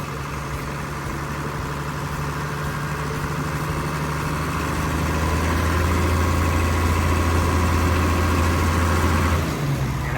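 A SAKAI T2 pneumatic-tyred road roller's heavy diesel engine idles steadily with a deep low rumble and rattling vibration, rising slightly in intensity midway, no voices.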